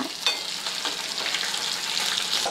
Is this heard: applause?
no